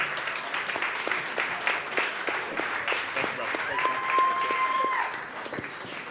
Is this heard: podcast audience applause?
yes